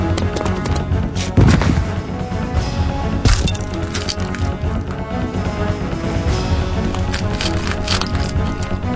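Resident Evil 2 combat against the G virus creature fills the scene with loud, sharp gunshots and cracking impacts over a dense, constant wash of game noise.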